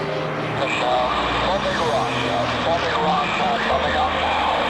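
A vintage propeller aircraft, such as a Bulldog or Hawker Hurricane, flies overhead at the 2014 Southport Air Show, giving a loud steady engine drone throughout with an announcer's voice over it.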